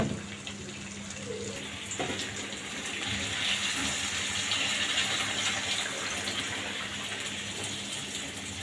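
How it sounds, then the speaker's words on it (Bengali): Water is poured into a pan of curry being cooked down, a soft continuous splashing gush over kitchen background noise, fairly faint and lasting several seconds. "পরিমাণ মতো জল দিয়ে দেব"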